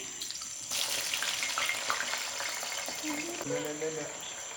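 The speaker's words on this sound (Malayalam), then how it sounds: "എണ്ണ ചൂടായി, ചക്ക ഇട്ട് കൊടുക്കുന്നുണ്ട്." Jackfruit slices dropped into hot oil, a steady close hiss and crackle of frying that starts abruptly and continues under a quiet voice.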